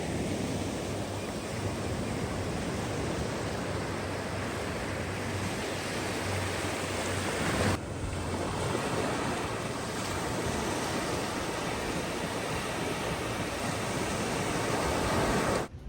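Ocean surf at a Florida beach gives a steady, full wash of crashing waves, continuous and loud throughout, with some wind across the microphone and no talking.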